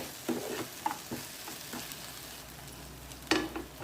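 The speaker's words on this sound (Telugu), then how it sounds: "ఒక టేబుల్ స్పూన్ గసగసాలు వేస్తున్నానండి ఒక ఫైవ్ మినిట్స్ బాగా వేయించుకుందామండి" A tablespoon of poppy seeds roasts in a pan over tomato cooked down for Andhra-style paneer butter masala, a steady soft sizzle with occasional scraping stirs, close and moderately loud, with no talking.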